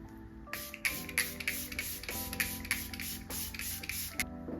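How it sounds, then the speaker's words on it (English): A series of short, hissing bursts from a makeup setting spray in quick succession, crisp and close, with brief pauses between pumps. "we're gonna go in with the One Size Powder Melt Glass Setting Spray"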